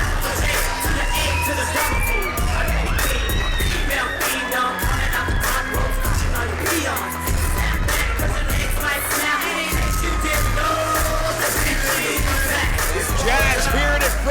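A women's pro wrestling crowd in Ybor City roars after the main event, with yells, whoops and sharp bangs over a dense, continuous din.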